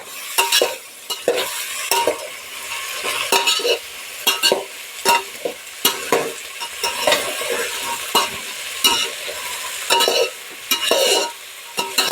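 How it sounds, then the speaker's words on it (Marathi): Mixed vegetables roasting in a hot pan, with a steady sizzle and repeated sharp scrapes of a spatula turning them in quick irregular bursts, loud and close with no voices. "आता सगळ्या भाज्या त्यामध्ये टाकून घ्यायच्या त्या पण आता व्यवस्थित भाजून घ्यायचं"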